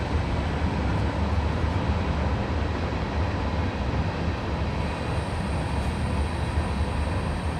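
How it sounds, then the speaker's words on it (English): A loud, continuous rumble of a train rolling past close by, steady throughout with dense low-end roar and a faint high whine later. "Let this train pass."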